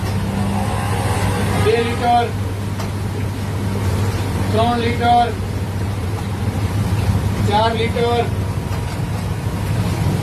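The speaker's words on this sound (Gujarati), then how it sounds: "લોટ બાંધવાના મશીનની અંદર એડ કરી દેવું 10 કિલો આટો, અને 5 મિનિટ સુધી મશીનને બરાબર ચલાવશું" A dough kneading machine churns 10 kg of flour as water is poured in, giving a steady, loud mechanical drone that runs continuously beneath a man counting aloud.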